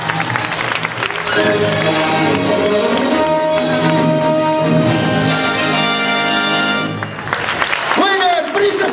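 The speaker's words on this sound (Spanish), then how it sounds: "aplauso para Natalia." An audience applauds for Natalia at the Yamato Cup, with steady clapping running under loud music and a voice throughout.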